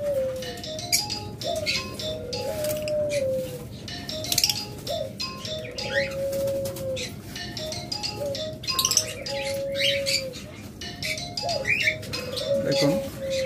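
Many pet birds, including lovebirds, budgerigars, Java sparrows and doves, chirping and cooing continuously in a busy aviary, with bright metallic clinks of cages scattered throughout.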